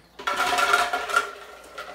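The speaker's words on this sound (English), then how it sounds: "So I'm going to go ahead and throw in my ice water in" Ice water tumbling into a Ninja blender jar in a home kitchen, a close, clattering rush of ice and liquid that lasts about a second and a half before tapering off.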